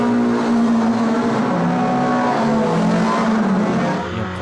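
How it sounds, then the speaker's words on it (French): Race cars roar together at the start of a race at the Nürburgring in Germany, a dense, loud, continuous engine din with rising pitch and faint tire squeal throughout. "Les feux s'éteignent et c'est un mauvais départ pour Esmeyer"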